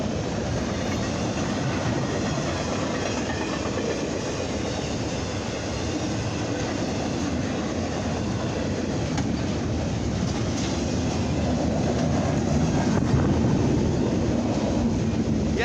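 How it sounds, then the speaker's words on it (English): A westbound BNSF intermodal freight train rolls past a railroad crossing in the rain on a late afternoon, a loud continuous rumble with rail clatter and wheel noise that holds steady close by throughout. "This is a BNSF Intermodals train. This is a westbound."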